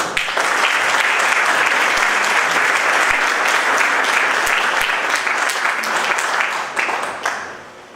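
Dense, sustained applause from an audience at a tribute ceremony, loud and steady for about seven seconds before tapering off at the end.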